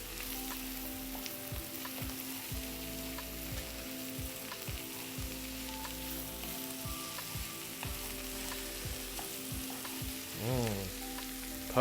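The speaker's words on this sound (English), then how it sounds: "And the garlic, in it goes. We'll give that a stir in." Garlic sizzles steadily in a hot pan while being stirred in, a continuous close frying hiss with light scraping touches throughout and no talk.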